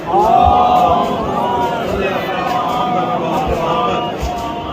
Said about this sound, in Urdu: ابھی آپ سب نے نعرے لگائے لبیک یا حسین، لبیک یا حسین